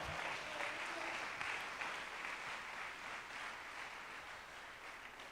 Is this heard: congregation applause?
yes